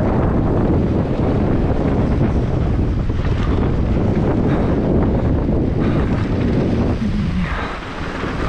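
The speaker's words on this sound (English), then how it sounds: "Whoa, the wind is super gnarly." Strong wind buffets the microphone on a mountain bike trail at Northstar, a loud, continuous rushing roar that fills the whole stretch and eases a little near the end, with no talk.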